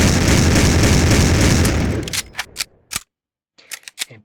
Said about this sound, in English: And then there's the auto shotgun.